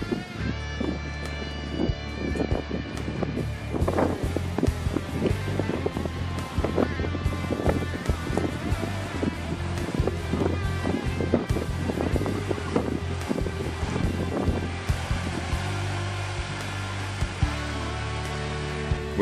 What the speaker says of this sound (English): Then I waited for the wind.